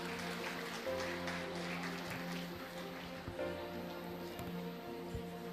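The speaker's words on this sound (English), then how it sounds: "Let's give a big round of applause for the scholars." An audience applauds scholarship recipients on stage at an award ceremony in an auditorium: steady, fairly quiet clapping that sounds like rain, with soft sustained musical tones underneath and no speech.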